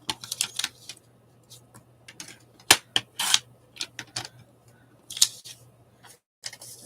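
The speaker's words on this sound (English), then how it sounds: "Let's go ahead and cut those apart." Scissors snip apart magazine pictures up close, with crisp, irregular cuts and rustling paper in short clusters over a faint steady hum, and no talk.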